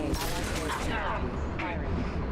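Dense gunfire in the video game Mass Effect 2, a loud continuous barrage of overlapping shots filling the whole moment without a break.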